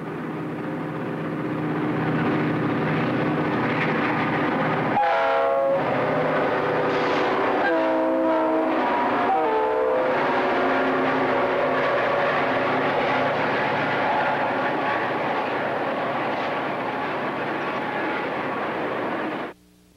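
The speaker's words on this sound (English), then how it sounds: "GP 40-2s 422 and 411 southbound out of Jacksonville at Sunbeam." A pair of GP40-2 diesel locomotives, numbers 422 and 411, rumble loudly past southbound at Sunbeam near Jacksonville, their horn sounding in several long blasts over the steady engine roar before the sound cuts off abruptly.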